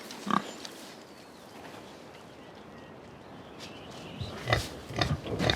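Pigs on an organic farm, grunting and oinking a few times in short bursts near the start and end, moderately close, against a quiet outdoor background with a faint bird call.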